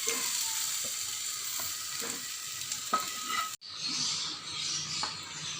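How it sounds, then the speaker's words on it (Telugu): Bitter gourd soup simmering and bubbling in a pot, a steady sizzling hiss with soft clicks from stirring, briefly cut off and then resuming, heard close with no talking. "ఎంత చక్కగా మరిగిపోయింది పులుసు అంతా"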